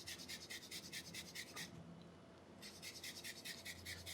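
Fresh fibrous ginger root is grated by hand in a kitchen, producing a quiet, rapid series of rasping strokes, a brief pause, then the rhythmic scraping resumes, with no talking.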